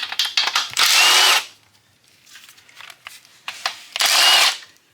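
A power drill runs in two bursts to take off small wheelie bars, each whir lasting about half a second, separated by quieter clicks and handling sounds. Loud and close, with no voices.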